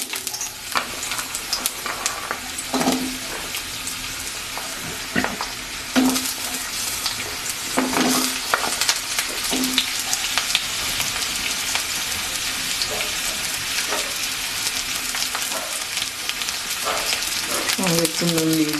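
Potatoes frying in hot oil give off a steady, dense sizzle, broken by occasional scraping stirs and clinks of a utensil against the pan, with a voice speaking briefly.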